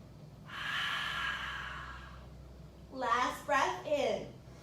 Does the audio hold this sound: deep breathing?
yes